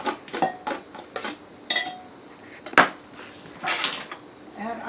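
Metal utensils clink and knock against a pan as chopped garlic is added, a run of sharp, irregular clatters and scrapes close up with quiet gaps between them.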